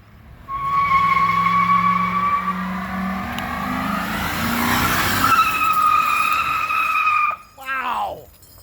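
Police cars, an Impala and a Crown Vic, skid in a burnout with loud sustained tire squeal and roaring engines, the pitch shifting throughout before a sharp final screech, under excited commentary.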